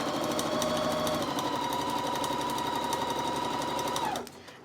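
A sewing machine runs steadily while stitching a patchwork rag quilt cushion, a continuous close mechanical whir with rapid needle rhythm that holds for about four seconds, then stops abruptly.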